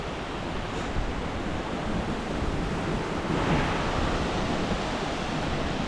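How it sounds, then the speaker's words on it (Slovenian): A double waterfall on a stream in the Resia valley near the Slovenian border, a steady loud broadband rush of falling water, close and continuous with no voices. "Slap pa čudovit."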